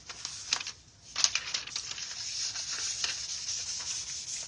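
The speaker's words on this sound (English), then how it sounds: "go over very lightly and burnish this in" A tool rubbing lightly over an IOD transfer on a thrifted box gives a soft, steady dry scratching close by, with a brief pause before the strokes resume.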